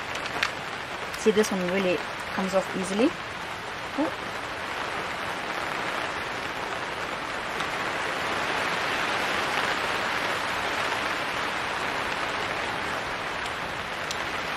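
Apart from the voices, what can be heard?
rain starting to fall in a garden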